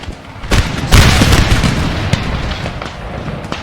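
A musket volley from line infantry in Napoleon: Total War rings out as a loud, close burst of overlapping booms, followed by a rolling, crackling tail of scattered shots that slowly fades.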